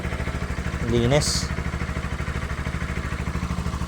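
A Bajaj NS200 FI motorcycle engine idles after a one-click start following an engine refresh, a steady pulsing low putter close by, with someone speaking briefly over it.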